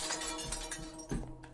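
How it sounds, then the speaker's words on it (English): Glass shatters in a brief, sharp burst of breaking and tinkling shards, somewhat faint and distant, heard alone without voices. "Where did the glass shatter?"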